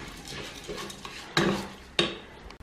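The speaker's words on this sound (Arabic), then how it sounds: "نشحر شويه تدخل فيه العطريه." Lentils sautéing with spices in a pot, a soft sizzle under scraping stirs, with two sharp clanks of a utensil against the pot.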